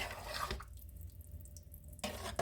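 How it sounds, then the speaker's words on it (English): Hot water runs from a kettle into a cooking pot of samp and beans with steak, a steady splashing pour heard close up for a couple of seconds with brief gaps at either end. "I'm going to add some water to it and stir your pot."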